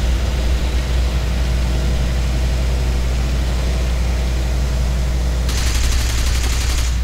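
Aircraft machine-gun fire in the War Thunder combat flight game, heard as a rapid rattling burst near the end over a loud, steady engine drone.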